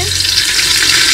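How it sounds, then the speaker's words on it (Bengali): Whole cardamom pods are stirred in hot oil in a frying pan while cooking biryani, giving a close, steady sizzle with a continuous stirring hiss. "এলাচ ভালো করে নাড়ো, এটা ফাটাতে হবে"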